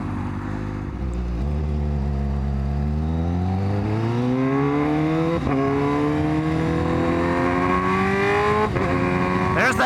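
A Honda CBR1000RR-R motorcycle engine runs loud and close, hesitating at low RPM before its pitch climbs steadily as it revs higher, with a few sharp blips along the way.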